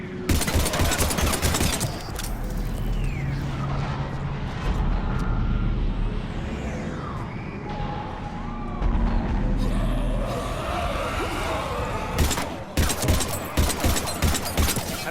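Gunfire crackles in a Mass Effect 3 battle during a Reaper invasion: a volley of shots opens, gives way to a dense rumbling din of combat noise, then sharp shots return near the end.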